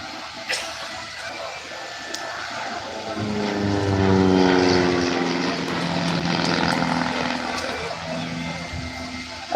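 Aerobatic display aircraft at a seaside airshow flying solo manoeuvres, a propeller engine drone swelling as it passes nearer then fading, with commentary heard over the public address.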